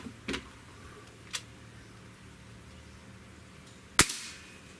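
Beeman Bison dual-barrel air rifle firing, with one sharp, loud crack near the end standing out against quiet surroundings, preceded by two fainter clicks.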